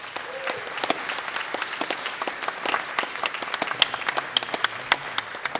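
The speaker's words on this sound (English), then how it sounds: "Can you get a round of applause for our legends today?" Applause at an awards ceremony honouring community legends: a room full of people clapping steadily, dense and fairly close, with faint voices under it.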